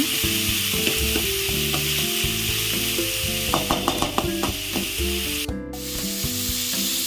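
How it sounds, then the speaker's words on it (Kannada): Onions fry in a pan for a Kannada mixed-greens palya, a constant close sizzle broken by repeated clattering scrapes of a spoon stirring, with no talking. "ಈರುಳ್ಳಿ ಎಲ್ಲ ಚೆನ್ನಾಗಿ ಫ್ರೈ ಆಗಬೇಕು ಚೆನ್ನಾಗಿ ಕಲಿಸ್ಕೊಳ್ಳಿ"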